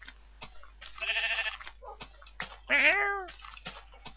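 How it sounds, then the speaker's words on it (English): A Minecraft cat meows twice, close and clear, amid short clicks and light tapping sounds. "I heard a strange noise like meow."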